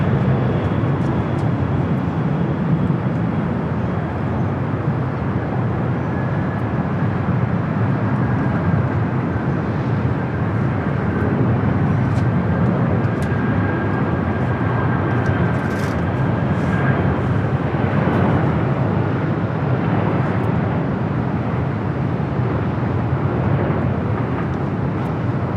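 A Western Global airliner takes off at LAX, giving a loud, continuous broadband jet roar that holds steady for the whole stretch, with no voices over it.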